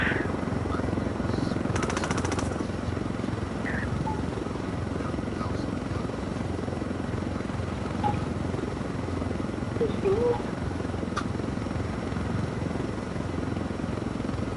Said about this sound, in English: flying the choppers with classic controls is pretty damn sweet just to swing on by